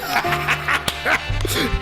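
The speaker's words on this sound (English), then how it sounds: "My dog." A dog gives a few short barks and yips close by, mixed in with an ongoing voice during a casual reaction-style recording.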